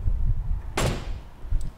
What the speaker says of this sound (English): door handle works